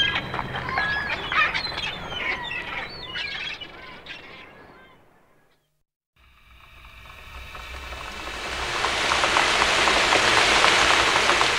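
Rain falls on a surface, building from a quiet patter to a steady, dense hiss that fills the later part of the clip, following a stretch of children's-show music with bird-like chirps.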